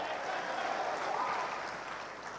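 An audience at a talk by Dr. Ramesh Patel and Vivek Bindra claps steadily in a dense, continuous wash of applause that holds at an even, fairly loud level throughout.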